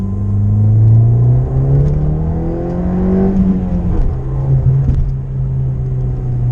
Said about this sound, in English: This car only has a muffler delete. It sounds great.